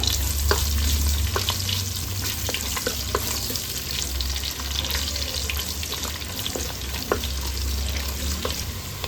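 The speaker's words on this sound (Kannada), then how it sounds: "ಈರುಳ್ಳಿನ ಚೆನ್ನಾಗಿ ಫ್ರೈ ಮಾಡಿಕೊಳ್ಬೇಕು" Two medium onions fry in hot coconut oil, giving a dense, steady sizzle with scattered pops and spatula scrapes, close and uninterrupted.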